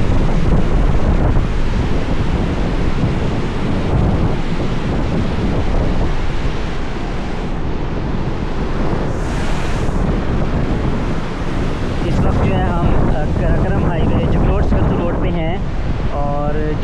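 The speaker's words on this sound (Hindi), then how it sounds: "कितनी स्पीड से पानी जो है वो आ रहा है, और पानी का शोर भी आप सुन सकते होंगे" The Astak stream, a mountain nala beside the Jaglot–Skardu road, roars loud and continuous with rushing water, a heavy wash blended with wind buffeting the microphone throughout.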